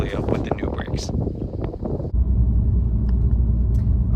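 An Alfa Romeo Giulia fitted with new big brakes drives along, its cabin filled with a loud low engine and road rumble, while a voice talks over the first half before the drive noise carries on alone.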